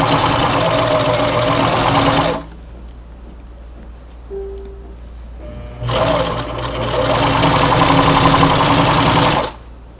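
A domestic sewing machine stitches fabric for a double Christmas and New Year charger-plate cover, starting with a backstitch. It runs as a loud, steady, close motor whir that stops for a few seconds of near quiet, then resumes steadily.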